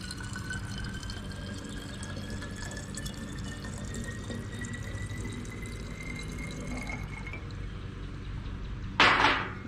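Liquid is poured into a container in a chicken coop setting, giving a steady trickling, filling sound that rises gradually, ending with a brief louder splash or clatter.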